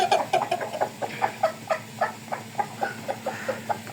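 Chickens and roosters of Japanese and Korean breeds cluck in a quick, steady rhythm, about a dozen or more short calls in a few seconds, close and clear with no talking.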